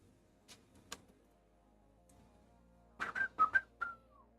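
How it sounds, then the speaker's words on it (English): Someone whistles a quick run of short, bright notes close to the microphone indoors in an art studio, following a couple of sharp taps and clicks, with no talking. "I didn't mean to whistle into the mic"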